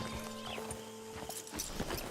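Horse hooves clip-clop at a steady walking rhythm in Red Dead Redemption 2 near Sisika Penitentiary, fairly faint with a soft whinny-like tone and light ambient game sound underneath.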